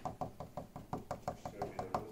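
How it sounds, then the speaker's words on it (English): Wood taps inside a settling wooden condo at night in Breckenridge, Colorado, a steady run of about a dozen evenly spaced knocks, close but quiet. "it's just the wood just tapping, sounding like some kind of a ghost or something"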